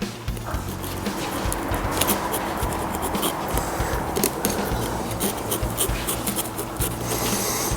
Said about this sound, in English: Just give it a little relief cut down there.